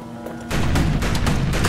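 Turrets fire in the video game Bastion, a dense burst of loud, crackling gunfire that erupts abruptly after a quieter start and keeps going without pause.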